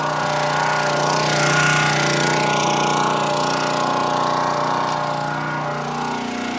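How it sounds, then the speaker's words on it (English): Firewood log splitter running outdoors, its engine giving a steady, loud mechanical drone with a constant hum and rattling hiss throughout, close by and without talking. "That's why I have the splitter running."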